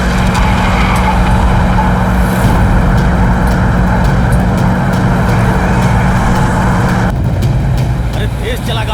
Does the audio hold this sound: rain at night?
no